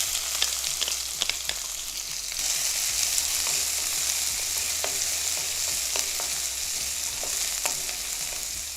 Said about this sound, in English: To the spluttering cumin seeds, now we're going to add in chopped onions.